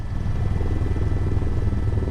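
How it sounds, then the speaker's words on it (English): A helicopter flying and slowing near the Uinta mountain crest, a steady close rotor thump with a rapid rhythmic beat and engine drone throughout. "The helicopter slowed as it neared the spine of the Uinta crest."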